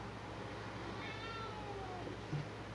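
A house cat meows once, a faint rising-and-falling cry in the middle of a quiet indoor room with a steady low hum and no speech.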